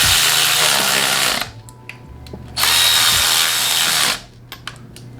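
A power tool runs in two steady bursts of about a second and a half each, separated by a short pause, while tightening the turbo bolts on a VW MK7 GTI during a Garrett Powermax turbo install. It sounds close and loud.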